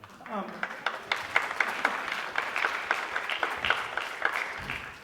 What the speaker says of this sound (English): big applause to Brandon on that